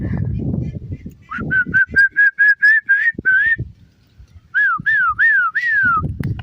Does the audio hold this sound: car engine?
no